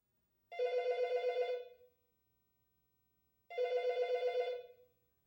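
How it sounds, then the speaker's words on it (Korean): An office telephone rings in two separate bursts, each a trilling electronic ring lasting about a second and a half, clear and close with silence between them. "사무실 전화기가 울려댔기 때문에"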